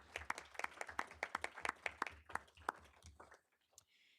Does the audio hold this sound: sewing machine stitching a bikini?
no